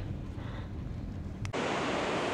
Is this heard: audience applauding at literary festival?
no